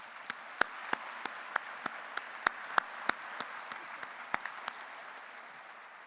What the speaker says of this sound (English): So let us give our faculty a big rousing applause for the work they have done in preparing you.